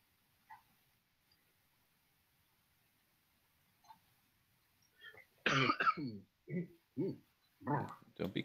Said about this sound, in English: Don't be coughing on the stream